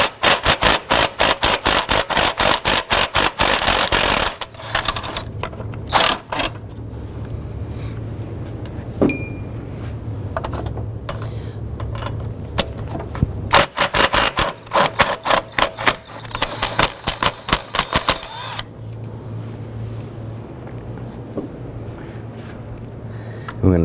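Pneumatic impact wrench bursts breaking free 17 mm transmission mount bolts on a 2007-2011 Honda Civic, loud rapid hammering in several long runs split by pauses and short blips, close by, with no talk.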